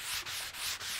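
A hard sanding block rubs across wood veneer in three quick back-and-forth strokes, a soft, airy hiss rising and dipping with each pass, close and quiet with no talk.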